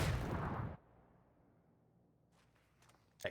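A grenade explodes in PUBG: one loud, broad blast fades over about three-quarters of a second into near silence, followed by a few faint distant pops and a sharp closing shot.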